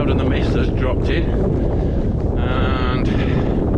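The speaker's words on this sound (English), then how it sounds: "it is very windy, as you can probably hear" Strong wind buffets the microphone on a misty, cloud-covered mountain ridge near St Sunday Crag and Grisedale Tarn, a constant loud broadband roar with gusty swells throughout.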